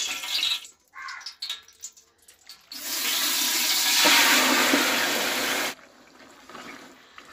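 Beef pieces hit about half a cup of hot oil in a heated saucepan while cooking Eid beef biryani, giving a loud, steady sizzle for several seconds that starts abruptly and cuts off, with quieter clatter around it.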